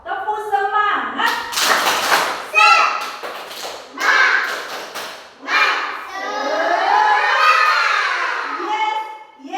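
Children in a classroom storytelling session answer with a rhythmic spirit clap, short bursts of claps and thumps mixed with loud chanting and shouting young voices, close and lively.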